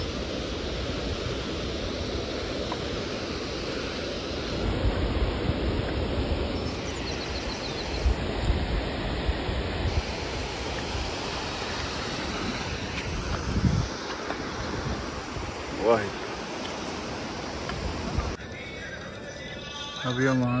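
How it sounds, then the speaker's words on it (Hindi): Glacier meltwater stream fed by snow above, flowing down along the Hemkund Sahib trek, a constant loud rushing hiss with wind buffeting the microphone and people talking over it. "वहाँ से पानी आ रहा है और वहाँ नीचे से फ्लो हो रहा है"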